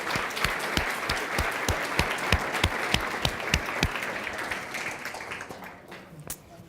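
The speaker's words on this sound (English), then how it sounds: "Let's give Christian one more round of applause." A seminar audience at an instructor event breaks into a sustained round of applause, dense claps with a few sharp individual hits standing out, steady for several seconds before thinning and tapering off toward the end.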